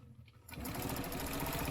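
A sewing machine stitching a quilt block starts up after a brief quiet moment, then runs in a fast, even, close-up whir of rapid stitches.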